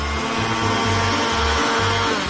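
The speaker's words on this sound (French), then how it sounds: "Et je vais le faire rapidement avec un mixeur." An electric blender whips grated cucumber and eggs into a batter, a loud continuous whirring with a low, pulsing drone that rises and dips throughout, and nobody speaking.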